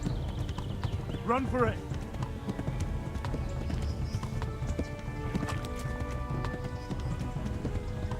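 A horse gallops with rapid, steady clip-clop hoofbeats during a chase in the video game Kingdom Come: Deliverance, with a short whinny early on and a shouted voice over the running.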